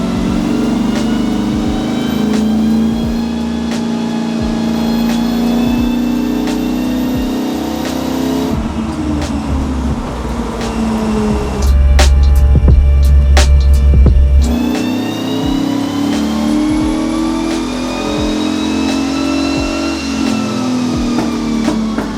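A supercharged V8 drift truck engine drones and revs steadily on a dyno, loud and close, pulling up through sustained rising pitch sweeps with a brief dip and surge midway; no voices.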